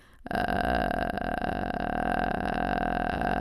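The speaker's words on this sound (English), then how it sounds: "I would start with some vocal fries, which sounds like this." A low, crackling vocal fry sustained steadily for a few seconds after a brief pause, steady and close, with no words spoken.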